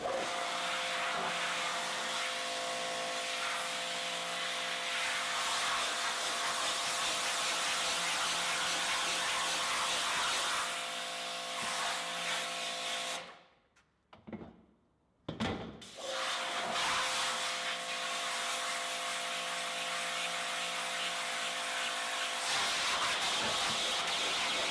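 Water sprays steadily against a screen-printing screen to wash off its emulsion, a loud continuous hiss that cuts out briefly midway and then resumes, with no one speaking.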